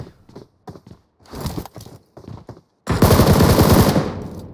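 UMP submachine gun in PUBG Mobile, a loud sustained automatic burst of rapid shots that takes over after a run of sparse footstep-like knocks.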